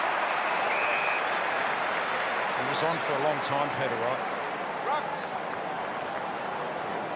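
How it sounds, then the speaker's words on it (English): A large crowd roars at an Australian football match between Melbourne and Essendon, a broad, steady wash of cheering heard under a commentator's voice that carries throughout. "Crowd excited. Good crowd in tonight."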